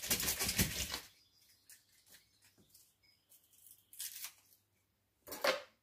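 Garlic cloves rattle and clatter inside a Cecotec Mambo food processor jug as they are peeled, with a loud dense burst at the start, then quieter scattered rattles and two shorter bursts near the end.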